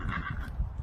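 A horse in a barn during weaning, heard close and steady with low snorting and shuffling over a brighter whinny-like tone, no talk.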